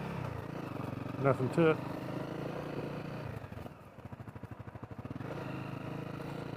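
A Honda CRF250L dual sport motorcycle rides along a remote trail, its single-cylinder engine droning steadily near the mic and dipping into a pulsing, lower idle-like rhythm midway before picking back up, with someone briefly speaking over it.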